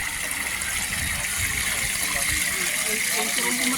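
Water gushes steadily from the outlet of a solar-powered irrigation pump at an outdoor irrigation project, a continuous broadband rush that holds roughly level throughout.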